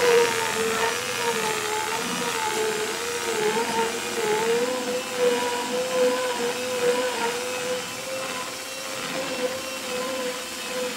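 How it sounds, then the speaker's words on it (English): A buffing machine works wax off a surfboard with a steady, close, droning whine that hums on without a break, wavering slightly as it moves across the board. "That's all little bits of wax that I'm buffing out with this machine"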